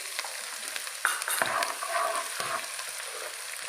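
Ginger and garlic paste sizzles in hot oil while a spoon scrapes and stirs the pan, with a few sharper clinks among the steady frying hiss.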